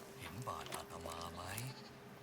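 Goats in the video game Indiana Jones and the Great Circle bleating, several wavering bleats in quick succession over a quiet background, with a voice talking over them.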